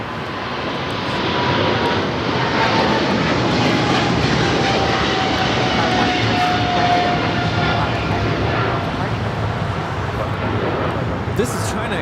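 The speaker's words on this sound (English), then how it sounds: "This is China Airlines cargo 5137 taking off to Taipei on the 777 freighter." A China Airlines cargo Boeing 777 freighter takes off at LAX, bound for Taipei, its engines a sustained broad roar that holds steady for the whole stretch, with voices talking over it.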